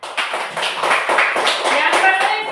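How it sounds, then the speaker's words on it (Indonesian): Classroom clapping for a student, a short burst of several hands tapping unevenly in a small room, fairly close and moderately loud, with a voice speaking briefly over it. "Tepuk tangan untuk Orvin"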